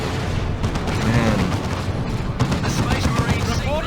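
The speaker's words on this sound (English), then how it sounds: "The Razorback shooting the wrong thing" A Razorback vehicle fires in the Warhammer 40k strategy game Dawn of War 2 Retribution, dense rapid gunfire and booming blasts forming a loud continuous barrage with a voice talking underneath.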